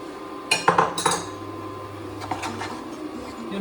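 A paste being stirred with coconut milk in a bowl, a few clinking taps of a utensil against the bowl near the start, then quieter scraping.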